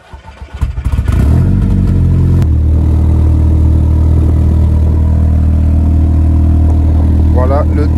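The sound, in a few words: Audi car engine starting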